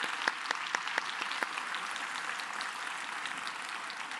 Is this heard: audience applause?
yes